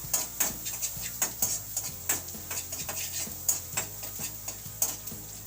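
Onion sautés in melted butter in a pan for a pasta sauce, with a steady sizzle under the repeated clicks and scrapes of a utensil stirring against the pan.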